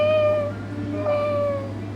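A person imitates a cat's meow, giving two drawn-out, wavering meows close to the microphone with a short pause between them.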